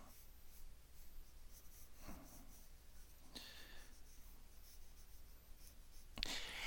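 A pencil drags hard across paper in slow scratchy strokes while a cartoon dog is drawn, quiet and close, with a few sharper rustles of the sheet between the strokes.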